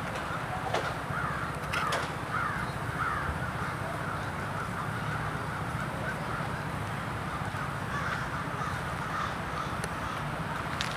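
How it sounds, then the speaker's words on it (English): Crows flying over houses give repeated harsh caws, several birds calling at moderate distance over a steady outdoor background, with no talking. "Do you guys know what's going on with these crows flying around over houses?"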